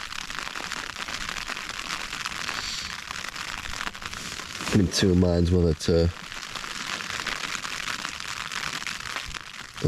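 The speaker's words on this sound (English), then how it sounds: "And we'll see it is raining though." Rain falling on a tent during a solo wild camp on Kinder Scout, a constant close pattering hiss on the fabric, with someone speaking briefly over it partway through.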